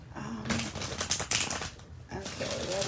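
A deck of tarot cards is shuffled close by in quick riffling bursts, with voices speaking faintly underneath.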